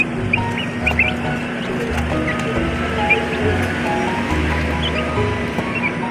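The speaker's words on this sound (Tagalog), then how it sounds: "Ito po yung ating mga Rhode Island Red chicken." Rhode Island Red chickens cluck and chirp close by in a poultry yard, with bursts of short calls and tweets over a low steady background hum. No one speaks.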